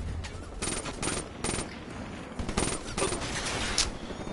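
Rapid video-game gunfire rattles in repeated automatic bursts, fairly close, with sharp, bright shot transients recurring steadily throughout.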